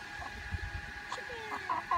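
Backyard chickens, New Hampshire or Rhode Island hens, cluck softly beside an automatic coop door opener outdoors, a few short clucks and calls over steady background hum.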